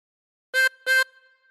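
Two short blown notes on a 16-hole tremolo harmonica, both the same pitch with a bright, buzzy, wavering reed tone, close and clear, separated by a brief gap and followed by a faint lingering ring.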